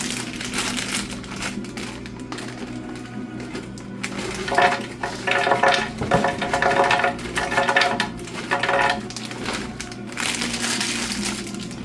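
A blender chops walnuts for a daikon pork rice salad, a loud rattling, crunching grind that starts, pauses and restarts in bursts close by, with no talking.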